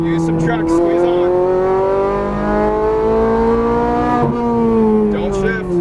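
A Ferrari 430 Scuderia accelerates on a race track, its engine note climbing steadily in a loud, close howl with a brief dip around a shift, while an instructor talks over it.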